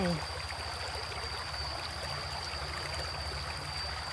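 Water flowing in a forest creek, a steady close rushing and burbling stream with a constant high whine above it, no talk.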